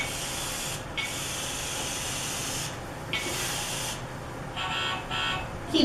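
Steady whirring hiss of a small toy drawing robot's motor running continuously as it drives over paper with a pen, with brief high whining bursts as it moves, fairly close and alone.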